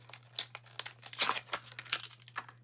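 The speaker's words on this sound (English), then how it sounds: "Just rip it open." An adhesive refill package being ripped open, giving close, crisp crinkling and tearing of plastic wrap in quick irregular bursts over a low steady hum.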